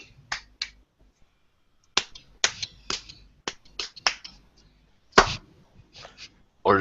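A person claps their hands, giving about a dozen sharp, separate claps in an irregular rhythm, close and clear, with brief silences between them.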